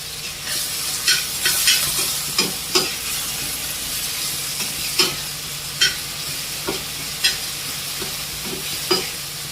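Snail curry 65 fries in a pan with chicken 65 spice powder, a steady loud sizzle broken by regular scraping strokes of a spoon stirring it, with no talk.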